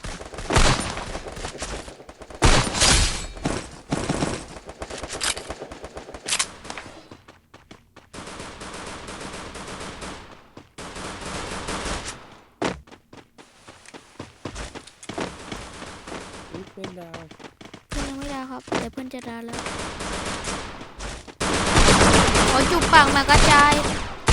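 Gunfire in the mobile battle-royale game Free Fire, with bursts of rapid shots and single cracks scattered through, mixed with game effects and a voice talking over the action.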